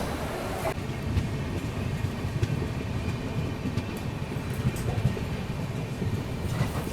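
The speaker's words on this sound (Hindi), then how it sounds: "अभी अपनी ट्रेन निकल रही है कूच बिहार से।" Rajdhani Express train pulling out of Cooch Behar station, a steady loud rumble of wheels and carriages rolling on rails with faint clatter, continuous throughout.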